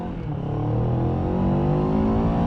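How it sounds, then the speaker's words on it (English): A 2025 Moto Morini Calibro Bagger parallel-twin motorcycle engine revs up loudly and steadily, its pitch climbing over a couple of seconds, close by. "It just wants to be revved out"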